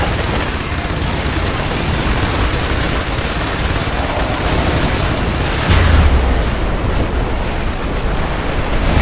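Airstrike explosions in the IS Defense war game blend into a loud, unbroken roar of rumbling blasts, with a heavier low thump partway through.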